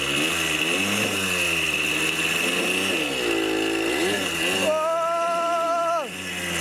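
A 100cc two-stroke dirt bike engine runs loud and close with a harsh, buzzy, vibrating drone, revving up and down through several swells before a final rise and drop.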